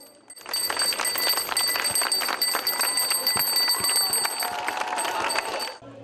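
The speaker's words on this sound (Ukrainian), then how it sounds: "обов'язковим атрибутом лінійки був перший дзвоник" Ringing school bell at a September 1 first-day ceremony in Dymytrov, a continuous loud metallic ring lasting about five seconds before stopping abruptly, heard fairly close with faint background crowd noise.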